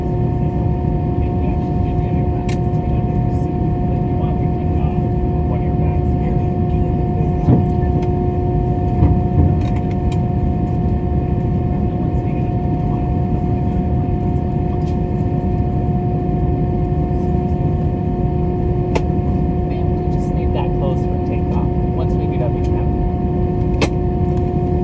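An American Airlines Airbus takes off from Las Vegas, heard from inside the cabin as a loud, steady, unbroken engine drone and rumble.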